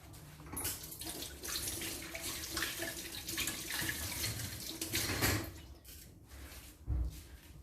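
Tap water runs steadily into a kitchen sink while burger bun dough is being made, a continuous broadband splashing with a few brief knocks and a louder surge near the end.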